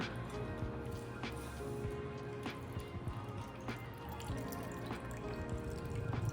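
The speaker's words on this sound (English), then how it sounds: "now we're just gonna pour our cocktail in" Rum punch cocktail quietly poured into a hollowed pineapple, dripping in soft irregular splashes, with faint clinks over a low background hum.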